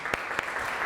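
An audience at a talk breaking into brief applause, a short burst of clapping with a couple of louder claps standing out.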